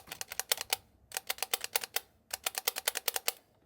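Trigger buttons on an original GameCube controller pressed in quick clicking runs, three bursts of close, crisp taps separated by short pauses, with no talking.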